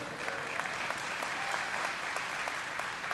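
A room full of people claps continuously at an even level during an open Q&A at BlizzCon 2010, a dense wash of applause with no pauses.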